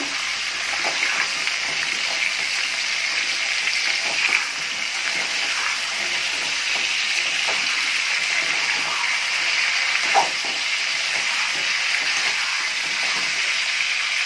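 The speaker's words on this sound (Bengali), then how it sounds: "আমি পটলগুলো ভালো করে ভেজে নেব।" Pointed gourd (potol) frying in hot oil in a kadai, a steady broadband sizzle that holds evenly throughout with small occasional pops, fairly close and alone with no talk.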